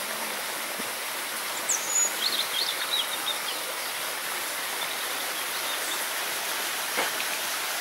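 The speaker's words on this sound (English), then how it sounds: "oh, start to rain." Light rain beginning to fall at a holiday resort in Armacao de Pera, Portugal, a steady soft hiss throughout, with faint bird chirps rising briefly in the middle.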